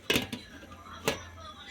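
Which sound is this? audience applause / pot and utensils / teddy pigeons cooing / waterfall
pot and utensils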